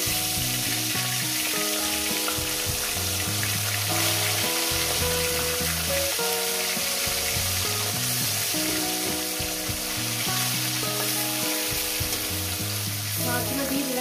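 Small fish sizzling and crackling steadily in hot oil in a pan, a continuous dense frying hiss throughout with no talking.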